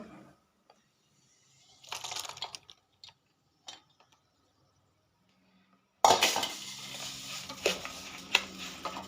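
Roasted cashews being stirred into semolina in a pan for sweet rava laddu, with soft scraping and clinking at first, then a louder, busy stretch of stirring and scraping near the end.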